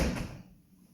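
A Schuco tilt-turn door on a folding door system gives a single soft, close clunk at the start that quickly fades into quiet.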